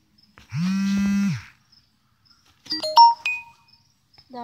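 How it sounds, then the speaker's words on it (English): A phone goes off with a sustained electronic tone lasting about a second, then after a pause a quick rising series of bright chiming beeps, close and clear over silence. "That was just my phone."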